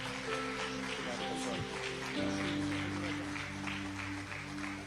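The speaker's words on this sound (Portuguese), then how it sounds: "Uma forte salva de palmas para Jesus." A congregation at an evening church service claps together, a full, steady wash of applause under sustained music chords and a faint voice.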